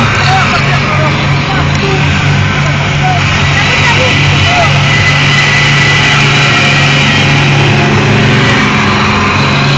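A 400-horsepower racing car engine roars in a loud, sustained drone throughout, with a voice talking over it.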